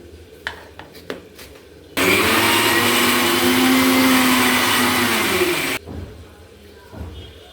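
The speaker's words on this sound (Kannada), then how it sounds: "ಈಗ ರುಬ್ಬುತ್ತಿದ್ದೀನಿ ಅದನ್ನು" Kitchen mixer grinder whirring loudly as it grinds coriander leaves and green chillies for chicken biryani, a steady high-pitched buzz lasting about four seconds that starts and stops abruptly, with faint tapping before and after.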